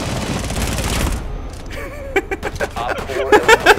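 Suppressive gunfire in Rainbow Six Siege starts after a muffled stretch of noise: rapid bursts of close, loud shots, punchy and uneven, repeating in quick clusters.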